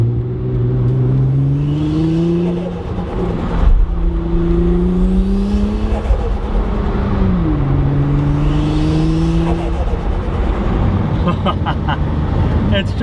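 Nissan R35 GTR taken out for its first test drive after a complete build, the engine droning steadily and rising in pitch through several gear pulls, loud and close, with a voice talking briefly over it.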